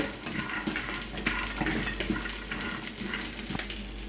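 Cashews sizzling in hot ghee in a pan while making sago and vermicelli milk payasam: a steady, close hiss of frying with scattered crackles and light stirring scrapes throughout, no voices.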